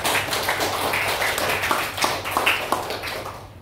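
Students in a classroom clap together, a dense, steady wash of hand claps lasting several seconds at moderate loudness with no talk over it.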